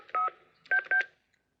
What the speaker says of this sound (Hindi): तू रीटा को जल्दी से फोन कर